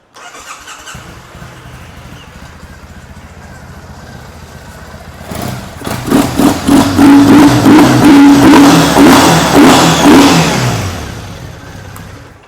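A 2015 Triumph T100 Black air-cooled motorcycle engine idles with a steady low throb, then is revved several times in quick, loud bursts before easing back down, close to the microphone and with no one speaking.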